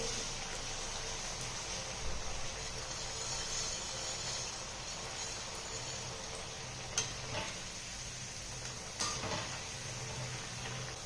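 Methi vadi shallow-fry on a hot tawa with oil and sesame seeds, giving a steady close sizzle throughout. A couple of soft utensil taps sound over the frying.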